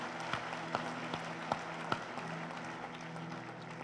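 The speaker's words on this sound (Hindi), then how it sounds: "तालियां बजा लें" A quiet audience claps for a speaker at a talk about Lord Ram, with a few sharper claps standing out at a loose rhythm over a soft, distant patter.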